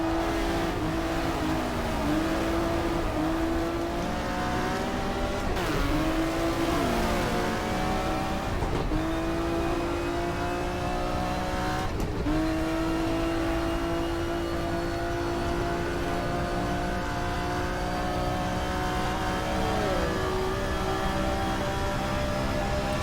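Race car engines in the GTR2 racing game at Kyalami, loud and continuous, with repeated upshifts and rising revs, pitch drops on braking and a brief tire squeal, no talking.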